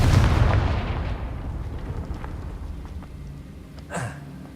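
A Confringo fire-blast spell exploding in Hogwarts Legacy, one heavy booming blast that decays into a rumbling tail, followed by a short sharp burst near the end.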